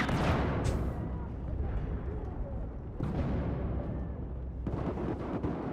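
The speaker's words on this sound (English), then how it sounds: "Throwing grenade." A grenade explodes in the online shooter Battlefield 4, with a loud rumbling blast followed by further booming detonations and sustained low-end roar from the battle.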